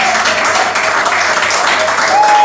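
A church congregation at a night prayer service breaks into sustained applause and cheering, a dense continuous wash of clapping and voices that holds steady and swells slightly toward the end.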